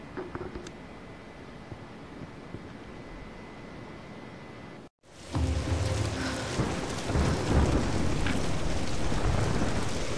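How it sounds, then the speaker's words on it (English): Rain and thunder from a storm in the video game Tomb Raider: Definitive Edition, first a steady hiss of rainfall, then a brief cut before a louder, fuller downpour with deep rumbling thunder that keeps building. "We're getting closer to the storm."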